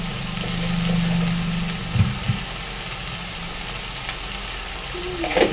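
Spice masala with a little sugar sizzles loudly in a pan while being sautéed, a steady close frying hiss with occasional scraping stirs and soft clinks.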